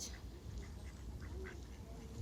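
A duck at a German zoo gives a few faint quacks in a quick series, heard at a distance over a low background rumble.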